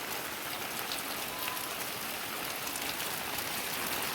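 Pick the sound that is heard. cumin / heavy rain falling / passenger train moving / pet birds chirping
heavy rain falling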